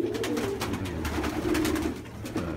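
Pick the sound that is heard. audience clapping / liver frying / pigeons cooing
pigeons cooing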